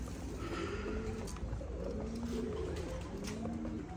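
Pigeons on a rooftop loft coo in low, repeated warbling calls against steady background noise, close and fairly continuous.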